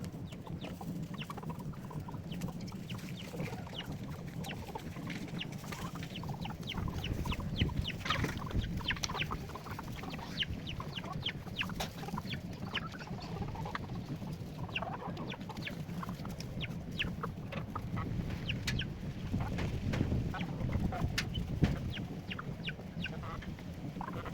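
A flock of chickens clucks continuously around a backyard setup where beetle larvae are being raised, with steady overlapping low clucks and occasional sharper calls over outdoor background noise for the whole stretch.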